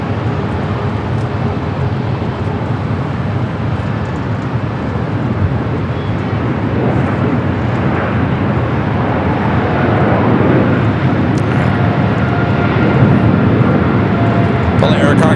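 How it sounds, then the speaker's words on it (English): An Air Cargo Boeing 777 freighter rolls down runway 25 right at Los Angeles International, a loud, steady jet roar that builds slightly toward the end, with people talking over it. "Pulling Air Cargo 777 freighter, rolling down to 25 right."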